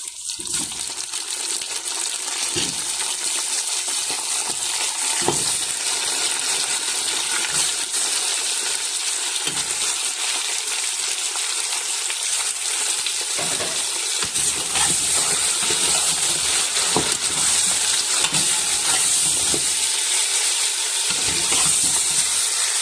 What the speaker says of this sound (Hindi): इसको 1 से 2 मिनट फ्राई करेंगे।